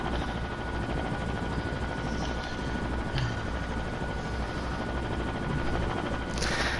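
Steady, dense rotor and engine drone of a helicopter in the building game Trailmakers, continuous and fairly loud throughout, with a few brief sharp knocks and a rising burst near the end.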